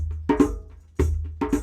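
Deep meditation drum strikes in a drumming circle, a low resonant boom sounding in pairs of hits with short gaps between, close and fairly loud with no voices.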